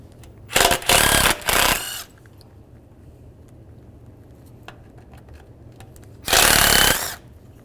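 A power tool with a T30 socket backs out screws during removal of the A/C condenser on a 1998-2010 Volkswagen Beetle, giving several short, loud whirring bursts early and one longer burst near the end, with quiet gaps between.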